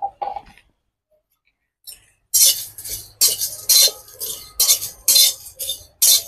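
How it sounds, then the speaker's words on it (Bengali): Whole spices such as fennel, black pepper, cinnamon, cardamom, cloves and dried red chillies being stirred in a pan for handi chicken, heard as a run of loud metallic scrapes and clinks of the spoon against the pan in quick bursts after a short pause. "2 থেকে 3 মিনিট আমি ভালো করে নাড়বো এটা, তাহলে ভালো করে ভাজা হয়ে যাবে।"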